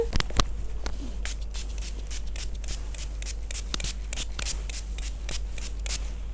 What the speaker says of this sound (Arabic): هستخدم السيتنج سبراي ده من بريتي وومن